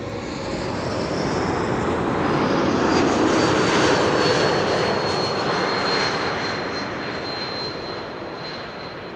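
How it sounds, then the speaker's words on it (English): Continuous roar of a KLM Embraer 195-E2 jet arriving at Amsterdam Schiphol, swelling to a peak mid-pass and slowly fading, broad and loud with a thin whine riding over the rumble. "Let's turn around for KLM flight 1752 arriving from Hamburg,"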